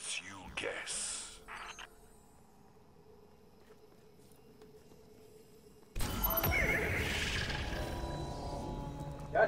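A horse neighs in a loud, shrill whinny near the start, followed by a quieter stretch of low background noise, then a dense, louder burst of mixed sound over the final few seconds.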